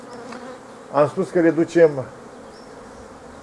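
Honeybees hum around a beehive frame at an apiary, a faint steady buzz beneath someone speaking briefly up close.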